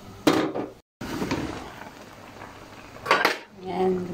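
A lid goes onto a cooking pot of fish and shrimp pinangat with a sharp metallic clank, a brief cutoff, then a second clatter about two seconds later. A low background hum runs between the clanks.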